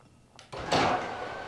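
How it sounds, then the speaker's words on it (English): A WiFi-controlled garage door in a new house opens with a sudden onset of a loud, sustained mechanical rumble and whir that holds steady after a brief click, close by and with no one talking. "But one last time, open the garage door."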